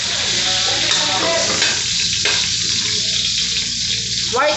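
Garlic and onion sizzle steadily in a hot pan for adobong kalabasa, sitaw at talong, a dense frying crackle with a few stirring scrapes and brief water sounds, no talking.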